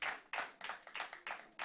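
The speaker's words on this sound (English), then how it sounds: "A hand of applause for our debaters." An audience claps for debaters in a short burst of scattered hand claps, fairly close and uneven, with no talking heard.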